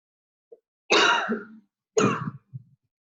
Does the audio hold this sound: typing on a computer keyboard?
no